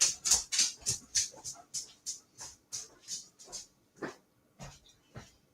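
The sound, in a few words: dog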